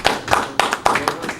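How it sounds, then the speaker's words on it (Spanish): A handful of people clap at a press conference honoring a musician, sharp separate bursts of hands coming in uneven waves, close and fairly loud, with no one talking over them. "Vamos a dar un fuerte aplauso."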